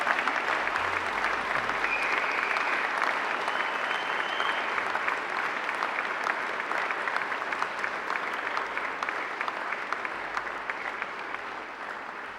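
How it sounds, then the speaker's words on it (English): Graduates at a graduation ceremony give their families and friends a loud, sustained round of applause, dense and steady throughout with a faint crowd murmur mixed in. "I invite you to give them a mighty round of applause"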